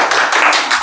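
A short burst of lively clapping from an audience at a youth creative showcase event, close and loud, with uneven rhythmic surges over less than a second.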